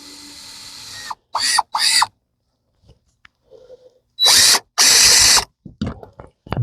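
A power drill whirs in several short, loud bursts, revving and stopping as screws pierce the thin metal roof of a Chevy Express van, with brief quiet pauses and small clicks between runs.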